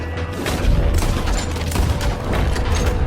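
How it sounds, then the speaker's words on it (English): A Gatling gun fires in Red Dead Redemption 2, a dense, continuous rattle of rapid booming shots that lasts the whole moment, loud and close. "He's going for the Gatling! Look out! He's firing!"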